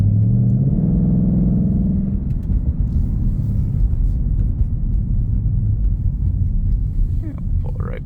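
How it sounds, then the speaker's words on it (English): A 2022 Ford Mustang GT exhaust rumbles in a deep, steady low drone, loud and continuous, easing from a slightly higher rev early on to a settled idle, with faint background noise. "Gotta love that exhaust system, the way it rolls right now."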